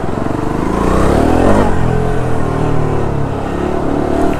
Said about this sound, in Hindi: गंदे वाले ट्रैफिक में फंस गए ना हम लोग आज